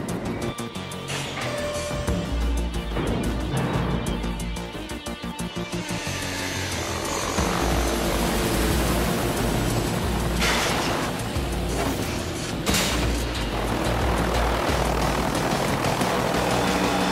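Cartoon aircraft engine roars up for takeoff, a loud, dense whirring drone with a propeller-like throb that grows fuller and rushes steadily for many seconds, heard alone.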